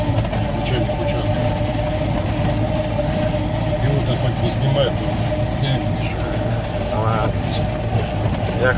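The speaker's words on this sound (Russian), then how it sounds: "Ух, там машина." A car engine drones at a distance across a rural field, a steady low rumble running throughout while people talk close by.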